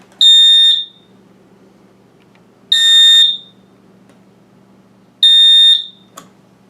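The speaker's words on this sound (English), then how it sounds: "Septronics alarm, we have alarm test and horn silence." A Septronics alarm sounds three loud, piercing beeps during a home safety device test, each about half a second long and evenly spaced a few seconds apart, with a brief click after the last.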